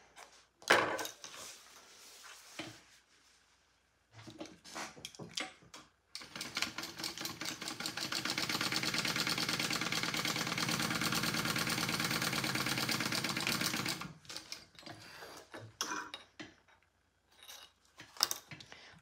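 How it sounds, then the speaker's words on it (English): A sewing machine top-stitches a folded bag strap for a crossbody bag, running in a long steady burst of rapid stitching between shorter stops and starts, with handling clatter around it. "All we have to do is fold it in half, top stitch, and then add it to our bag."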